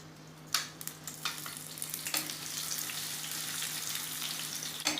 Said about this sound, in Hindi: अब हम इसमें जो टमाटर की मैंने प्यूरी बनाई थी वो उसे डाल दूँगी।